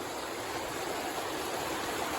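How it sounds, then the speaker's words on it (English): Steady rushing flow of a fordable river on the Appalachian Trail, a broad continuous wash of moving water close by with no talk over it. "Let me also show you this river that I crossed yesterday during the dark. This is an interesting river to ford."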